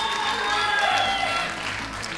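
Applause from the audience at a live televised concert, a steady wash of clapping with a sustained tone and crowd noise running beneath it.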